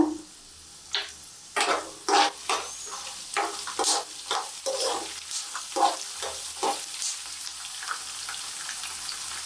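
Garlic fries in oil in a pan over high heat, a steady close sizzle broken by repeated scraping stirs of the spoon against the pan.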